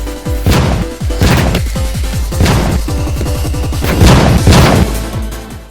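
Small Diwali firecrackers go off in rapid sequence, a loud, dense crackle of bangs and pops with several heavier bursts standing out, and no voices.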